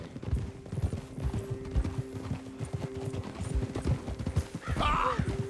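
Hooves clip-clop at an unhurried, steady pace in Red Dead Redemption 2, with a horse whinnying near the end.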